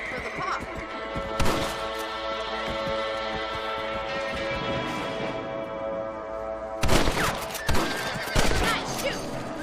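Rifle shots ring out in the Red Dead Redemption video game over a steady bed of horse sounds, with one shot early on and a cluster of three or four sharp reports near the end.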